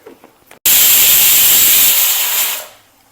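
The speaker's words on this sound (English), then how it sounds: "our Appalam Kuzhambu is boiling well now." Appalam Kuzhambu, a thickened home-style South Indian gravy, in a pot: after a few soft clicks, a sudden loud, steady hiss of steam and bubbling fills the space for about two seconds, then fades out.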